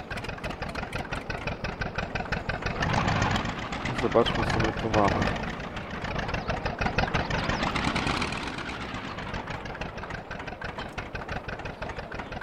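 A second small tractor idles in a farming video game, its steady mid-pitched engine chugging throughout and swelling briefly in revs, while someone talks over it.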